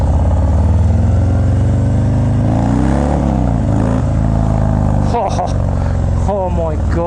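A 2019 Harley-Davidson FXDR 114 with Bassani Road Rage exhaust rumbles loud and deep while riding, its engine note rising and falling through acceleration, with wind noise and a rider's voice talking over it.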